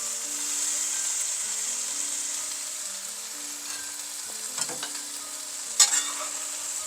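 Beef cubes for Vietnamese shaking beef (bo luc lac) sear in a hot pan, cooked in small batches, giving a steady, close sizzle throughout, with a couple of brief clatters near the end.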